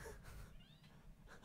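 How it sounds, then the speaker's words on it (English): A small kitten named Eve squeaks and meows for attention, a few short high cries close by over a low background rumble, with no talking. "we've got a squeaky kitten as well"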